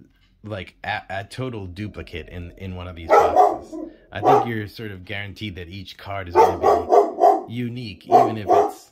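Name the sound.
dog barking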